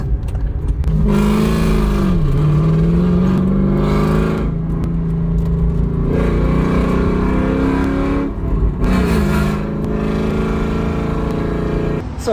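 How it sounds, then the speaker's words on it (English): A Volvo fitted with a 3UZ V8 engine runs on dyno rollers, its loud, steady engine drone rising and falling through several rev changes over roughly twelve seconds with no talking. "So we are here at Kar Technic to put the car on the rollers."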